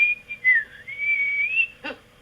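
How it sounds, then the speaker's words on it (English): A single person whistles a wavering, sliding tune for about two seconds, clear and close, followed by a short breathy burst. "he began to whistle"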